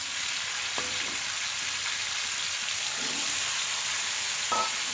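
Pulao rice grains frying in oil in a pan, giving a steady close sizzle with a few soft scrapes as the grains are stirred, no talking.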